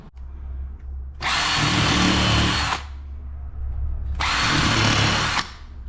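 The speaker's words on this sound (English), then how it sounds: "I'll screw that to the back of my panel on here, and then I can screw that in there" A power drill drives screws into a melamine panel in two loud whirring bursts of about one and a half seconds each, separated by a short quiet pause.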